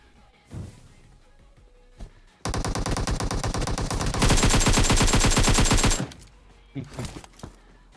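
Sustained automatic gunfire in the battle royale game PUBG Mobile at Pochinki, a loud unbroken burst of about three and a half seconds that grows even louder midway, with faint footsteps and small thuds before and after.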